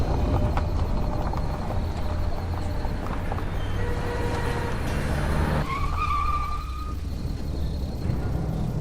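A car engine runs steadily at close range, then the vehicle comes to a stop with a brief squeal near the end, all with no talk.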